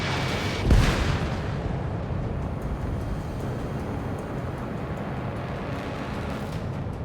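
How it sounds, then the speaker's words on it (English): Surface-to-air missiles firing in the video game Ace Combat 7 bring a sharp booming launch near the start, then a steady roaring rumble of jet engine and wind that carries on to the end. "they're firing surface-to-air missiles at me"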